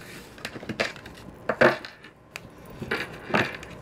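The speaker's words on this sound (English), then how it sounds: "These cards will get good and shuffled" Tarot cards are shuffled and cut by hand, giving a series of short, crisp riffling and slapping bursts at close range, irregular in rhythm and heard alone without talk.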